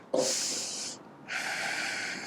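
A person in a vinyasa yoga class breathes in deeply in warrior pose, a loud close rushing inhale followed after a short pause by a second long airy breath.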